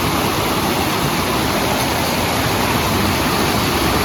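A rain-swollen forest stream rushes past nearby with a loud, continuous roar of muddy floodwater, steady and unbroken.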